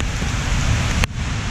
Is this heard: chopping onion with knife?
no